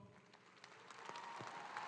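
Applause for veterans standing at a community college commencement ceremony, quiet and distant clapping from a large hall crowd, gradually building.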